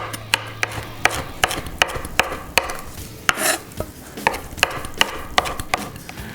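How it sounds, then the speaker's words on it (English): Cilantro is finely minced with a knife on a cutting board, giving a quick, steady run of sharp chopping taps at close range, each strike distinct and evenly spaced with no talking. "now I've got our cilantro here, which I've rinsed off"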